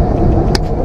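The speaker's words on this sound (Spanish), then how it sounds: "el tráfico pesado para entrar a la glorieta" Heavy traffic crawls into a roundabout in Bogotá, making a close, continuous low engine rumble. A brief sharp click or tap sounds in the middle.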